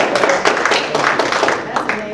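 Audience applause for a university president at a campus meet-and-greet, a dense, steady wash of many hands clapping throughout, with voices mixed in.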